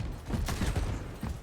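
Turret gunfire in Overwatch rattles out as a dense burst of rapid shots over a busy match, loud and continuous for the whole moment.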